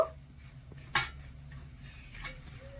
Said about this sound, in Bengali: এবারে একদম হালকা আছে নেড়ে চেড়ে একটু ঘিয়ের সাথে ভেজে নেব